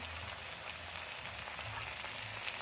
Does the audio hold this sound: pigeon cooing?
no